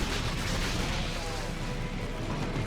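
Bolt guns fire in the Dawn of War 2: Retribution strategy game, a dense, continuous rattle of battle gunfire with booming bursts layered together, loud and unbroken throughout.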